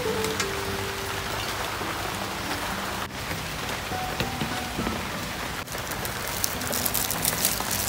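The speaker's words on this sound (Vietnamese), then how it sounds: "giờ trời mưa rồi" Steady rain falls outdoors in a rural Vietnamese home setting, a continuous dense patter on surfaces that stays fairly loud and even throughout with no voices.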